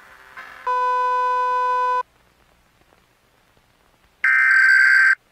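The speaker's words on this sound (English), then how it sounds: "Emergency action notification." An emergency alert tone in The Backrooms: Unbounded video game, two loud, steady electronic tones, each held for over a second with a quiet gap between them.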